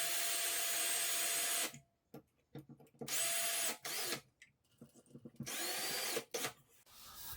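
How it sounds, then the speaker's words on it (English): A power drill drives a screw into a Moen 1222 shower tub faucet cartridge fitting, in several loud bursts of whirring separated by short pauses and small handling clicks. "So I will use this drill here."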